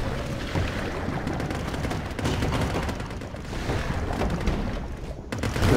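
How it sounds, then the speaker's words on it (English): Dense machine gun fire in a naval video game battle, a continuous rattling barrage with rapid overlapping shots and booming impacts, loud and steady from start to finish with no pauses. "Those machine guns are brutal."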